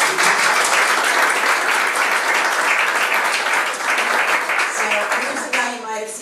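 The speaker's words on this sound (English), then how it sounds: "they also deserve a big round of applause." An indoor audience at an evening talk breaks into loud, continuous clapping that holds steady before tapering near the end, where a voice begins to speak.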